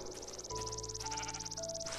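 A Minecraft sheep in a Tekkit server bleats several times in quick succession, the wavering synthetic calls sitting over a steady high insect-like drone with no talking.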